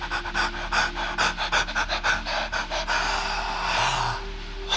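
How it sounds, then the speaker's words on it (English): Fast, full breathwork breathing with rapid rhythmic pants and gasps, close and loud, repeating in a steady pulse before easing into a longer exhale, over soft ambient music. "If there's any time to go wild and nuts and crazy and free and ecstatic with your breathing"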